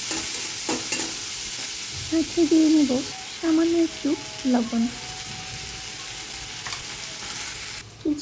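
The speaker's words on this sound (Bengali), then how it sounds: "কিছুক্ষণ যাবত আমি ভেজে নিচ্ছি।" Dried fish and other ingredients fry in a pan with a steady soft sizzle while a spatula stirs and scrapes at intervals, and someone speaks briefly over the cooking.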